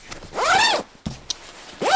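The zipper on a Western Mountaineering Antelope MF sleeping bag, fitted with stiffening tape, is zipped quickly up and down in close, rasping strokes, with a couple of short zips separated by brief handling clicks.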